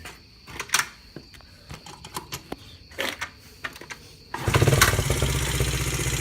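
A Z50 pit bike is cold started: several sharp kick-start clatters and sputters, then the small engine catches and settles into a steady, loud, close idle.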